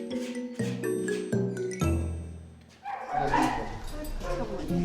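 An anxious dog named Bubba in the dog wing of an airport animal border inspection post gives a few close yips and whimpers, then rustling and a voice.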